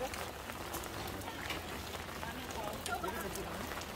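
Steady rain falls on a path leading to a temple on Buddha's Birthday, a dense broadband patter continuing evenly throughout, with a few brighter drop hits and faint voices in the background.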